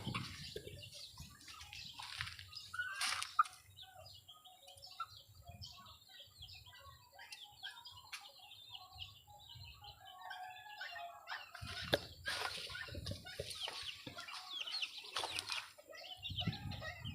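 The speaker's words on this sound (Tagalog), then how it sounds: "Yan yung mga bagong sisiw natin na palahi." Young chicks and chickens crowded together in a small pen, with scattered soft peeps, clucks and occasional wing flapping at close to moderate distance, plus a few louder bursts of activity; no talking.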